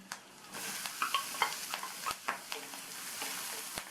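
Ginger, garlic, curry leaves and onion frying lightly in oil, with soft sizzling and a series of quick scrapes and clinks as a spoon stirs the pan, close and moderately quiet with no talking.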